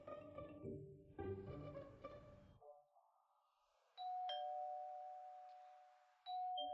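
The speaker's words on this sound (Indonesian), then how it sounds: "Han Xiu ada yang menekan bel pintu" An indoor electronic doorbell chimes twice, two bright tones sounding clearly alone after a stretch of music fades out.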